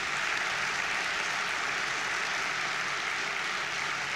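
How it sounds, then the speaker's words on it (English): Steady, continuous applause from an audience at a federal celebration of the Vogtle 3 and 4 nuclear plant units, a dense even wash of clapping held at constant level throughout. "Give yourselves a big round of applause."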